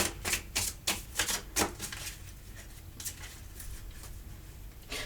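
Tarot cards being reshuffled by hand, a quick series of crisp riffling snaps at the start that thin into soft, steady patter, close and fairly quiet with no talk.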